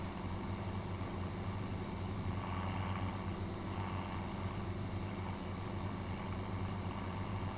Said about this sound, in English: we start climbing the hill, you can really hear the tractor's engine pitch change there